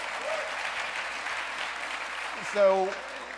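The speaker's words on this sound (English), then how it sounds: "that's why you're getting that applause" Audience applause during an on-stage interview at 92Y, a steady, moderate clapping throughout, with a brief voice near the end.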